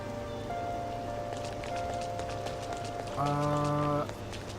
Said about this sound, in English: it's raining, we got an umbrella